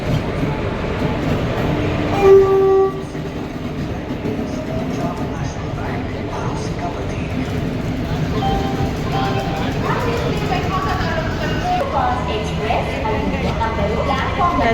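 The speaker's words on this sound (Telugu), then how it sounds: "గైస్ వచ్చేసింది ట్రైన్" A passenger train rolls into a station platform with a continuous low rumble and faint rail clatter, while people chat nearby throughout.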